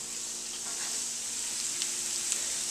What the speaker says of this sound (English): our garlic and our corn has been cooking down with the onions and the red pepper